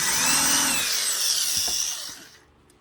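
A power drill spins at high speed countersinking a hole in a cigar box guitar, then winds down to quiet, followed by a sharp click at the very end.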